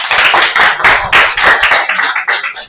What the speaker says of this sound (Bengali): ওর জন্য হাততালি দাও